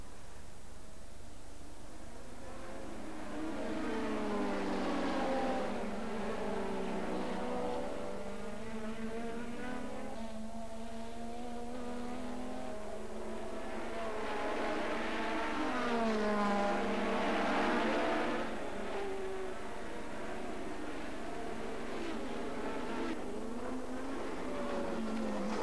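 Formula 1 race cars of 1987 on the fast Silverstone circuit, including a BMW-engined Brabham, sweep past in long, loud high-revving engine passes that rise and fall as they approach and fade, one after another.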